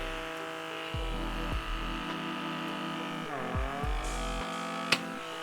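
A Vivitar pore vacuum suction device runs with a steady close electric hum, its pitch dipping several times as the suction grips and releases against facial skin, with one brief click near the end.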